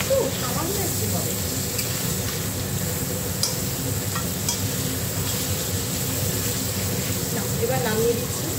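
Prawns sizzling and frying in a pan for a masala prawn dish, a steady close crackle with occasional stirring clicks, under a person talking.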